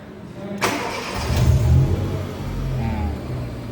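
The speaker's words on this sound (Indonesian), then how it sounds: "Kita coba hidupkan mesinnya." A car engine cranks and catches with a sharp burst, then settles into a steady low idle during a brake booster check, close by with no talk over it.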